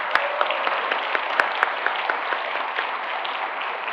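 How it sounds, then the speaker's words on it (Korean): A church congregation applauds at a pastor installation ceremony in Daegu, an even, sustained roar of many hands with a few sharper individual claps standing out, heard from a distance in a large hall. "힘껏 한번 박수를 쳐주십시오."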